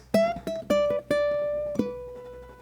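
A bright plucked ukulele lick of about six quick notes, the last note held and slightly bent in pitch, played alone and close.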